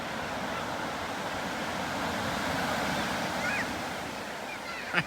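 Ocean surf rolls and breaks in a steady, continuous wash with gusts of wind noise across the microphone, a small wave breaking on a sunny day near an offshore storm; a faint voice speaks briefly near the end.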